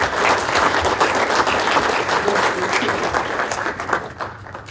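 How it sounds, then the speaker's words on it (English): A loud, sustained round of applause from the crowd at a sports commission MVP awards event, dense clapping that carries on without pause and fades slightly at the end. "So let's give Kathy a round of applause"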